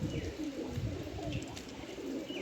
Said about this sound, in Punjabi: ਲੋ ਕਰੋ ਚੈੱਕ ਕਬੂਤਰ